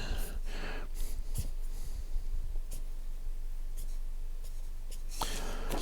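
A pen scratches across paper up close in a series of short, uneven strokes, with soft breathing between them.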